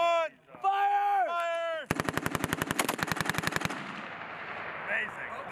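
An M2A1 heavy machine gun fires a 25-round burst on a Marine range: a loud, rapid, evenly spaced string of close, sharp reports lasting under two seconds, then a fading echo. Rising whistle-like tones sound just before it.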